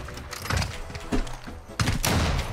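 Gunshots from a trick shot in a first-person shooter video game: a few sharp, punchy bursts that stand out over low game sounds and faint chatter.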